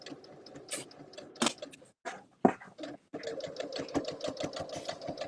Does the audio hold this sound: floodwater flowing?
no